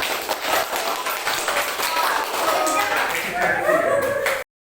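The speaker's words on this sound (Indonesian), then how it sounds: "Kasih tepuk tangan untuk kelompok yang pertama." A group claps for the first presenting group, a mix of uneven clapping, taps and voices, loud and close before it cuts off abruptly.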